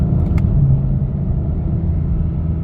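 A 2021 Acura TLX Type-S engine drones low and steady while downshifting through paddle shifters, a continuous close rumble with a slight brief lift in pitch early on and no talk.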